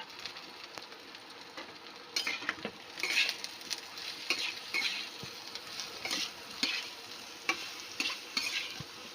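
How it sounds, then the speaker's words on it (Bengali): Eggplant pieces with salt and turmeric fry in a little fish oil while being stirred, soft sizzling under repeated scraping and clinking of the spatula against the pan, close and steady with no voices. "এবার বেগুনটা একটু ভেজে নেব"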